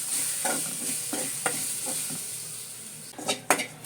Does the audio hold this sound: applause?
no